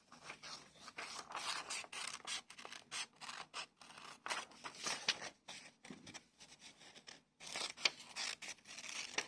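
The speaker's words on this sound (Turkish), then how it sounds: "Ve makaslarla kesiyorsunuz." Scissors snip through paper in a series of short, close, crisp cuts with brief pauses between them, heard alone without talk.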